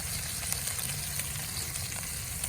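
Wagyu ribeye or strip steak sears in a hot pan, giving a loud, continuous, crackling sizzle up close with no talking.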